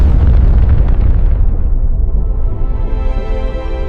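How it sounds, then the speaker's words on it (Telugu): A huge, deep explosion representing the Big Bang: one loud rumbling boom that roars at full strength, then slowly fades into a long, darkening low tail, with no other sound. "సుమారు 1380 కోట్ల సంవత్సరాల క్రితం ఒక భారీ విస్ఫోటనం జరిగింది."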